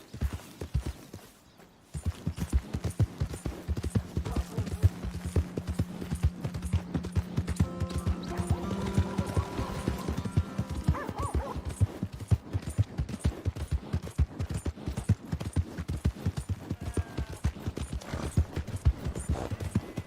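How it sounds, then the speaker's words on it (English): Horse hooves clip-clop in a steady, continuous rhythm in the video game Red Dead Redemption 2, close and moderately loud, with a brief faint tone partway through. "My horse!"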